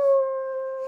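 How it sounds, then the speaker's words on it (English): A dog howls like a wolf in one steady, drawn-out tone lasting about a second, clear and alone without speech. "They howling like a wolf."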